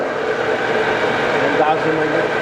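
The spindle head of a 2004 Trak DPMS3 3-axis CNC bed mill runs at variable speed up to 4,500 RPM, a steady, even mechanical whir heard close and continuous, with a person talking over it.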